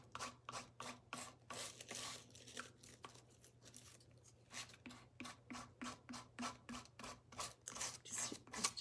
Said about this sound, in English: Just as easy with a little file here.